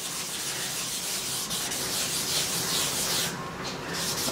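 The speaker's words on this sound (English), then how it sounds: "You can rub it out using a rubber, which is often quite useful." Coloured pencil rubbed back and forth on paper to blend a jellyfish colouring, giving a steady, close, scratchy rubbing hiss that runs continuously without pause or talk.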